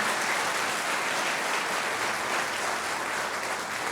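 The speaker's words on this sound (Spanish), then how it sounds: "Aplauda fuerte si lo cree, hermano." A church congregation applauds loudly and steadily during a sermon, dense clapping filling the room without a break and no voices rising above it.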